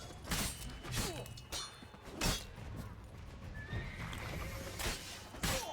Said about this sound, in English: There is a horse around here who is not happy with what's going on.